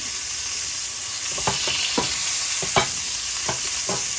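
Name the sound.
pork filets searing in a pan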